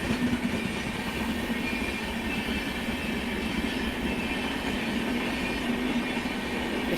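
An Amrit Bharat Express train pulling out of Prayagraj Junction, a steady rumbling roll of wheels on track with a faint rhythmic clatter, continuous and fairly loud throughout, with no talk.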